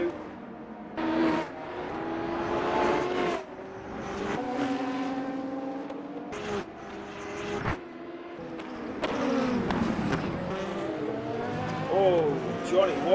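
LMP2 prototype race cars in the Le Mans Ultimate sim racing game at COTA whine past in repeated bursts of rising and falling engine pitch, mixed under steady commentary voices.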